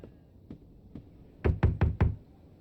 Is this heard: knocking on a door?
yes